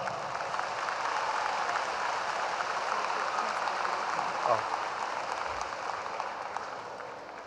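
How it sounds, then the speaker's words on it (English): Audience applause at a 2011 high school graduation ceremony in Dallas, a steady, dense wash of clapping from a large crowd that holds evenly throughout, with faint murmuring mixed in. "We please give them a round of applause."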